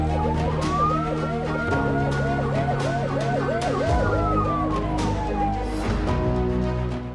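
Vehicle-mounted hooter siren on a road in Bhopal, Madhya Pradesh, wailing loud and continuous in rapid rising-falling cycles alongside a steady slow tone, with traffic rumble underneath and no talking.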